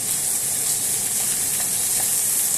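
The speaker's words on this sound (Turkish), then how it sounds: "Şimdi kıymamı kavuruyorum." Minced meat browning in a hot pan for Turkish eggplant oturtma, a loud, dense and unbroken close sizzle with no speech.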